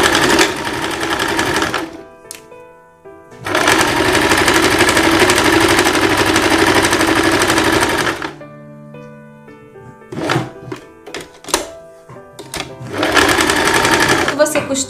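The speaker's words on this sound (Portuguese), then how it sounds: "Aquela parte do V, daquela pala, aquela faixa que tem no V, você vem aqui agora costurando." A sewing machine runs loud and close as it stitches the V band of a summer dress, with long steady mechanical buzzing runs broken by pauses and a few sharp clunks, while someone talks over it.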